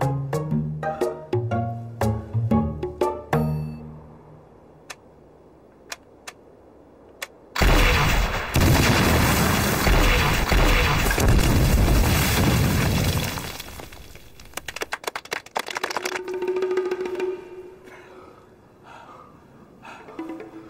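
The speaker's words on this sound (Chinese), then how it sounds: "打完子弹还不够，还打起炮弹来了" Artillery shells are fired in a special forces war film. A quiet musical passage gives way to a loud, continuous roaring barrage of blasts lasting several seconds, then fades back into softer tones.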